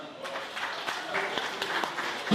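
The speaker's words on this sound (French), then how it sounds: "Déjà, on peut applaudir ça." Crowd applause after a live Creole song performance at a tropical street parade on an avenue in Saint-Ouen-l'Aumône, a brief dense burst of clapping throughout with some voices mixed in.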